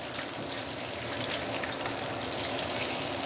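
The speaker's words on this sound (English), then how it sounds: "So this is after about 7 minutes deep frying using a medium or medium low heat." A steady, dense crackling sizzle of pork belly deep frying in hot oil over medium-low heat, continuous and even throughout.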